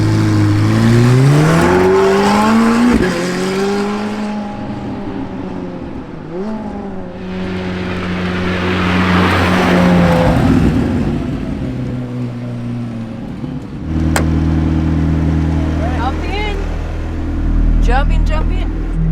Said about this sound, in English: This is a 4-litre twin turbo V8 and it sounds magical.